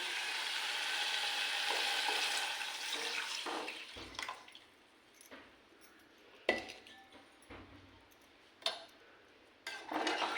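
Coconut, chili, ginger and garlic paste poured into a simmering white curry, a soft wet pouring wash followed by a few sharp clinks of a utensil against the pot, no talk.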